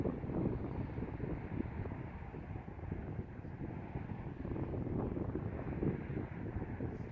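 A headwind gusts across an open disc golf course, buffeting the microphone with a continuous low, rumbling roar that swells and eases slightly without letup. No voices.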